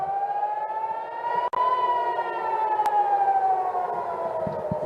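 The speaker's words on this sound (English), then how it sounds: "Those are the air raid sirens." Air raid sirens wailing over Tel Aviv during a missile attack, one long steady rising and falling tone, loud and sustained, with a couple of brief clicks and no talking.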